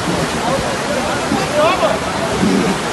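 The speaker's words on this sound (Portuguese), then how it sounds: "Olha aí, água brava!" Rushing floodwater surges past a bridge during a landslide disaster, a dense steady roar filling the clip with no letup, close and loud, with faint shouting voices partly buried beneath it.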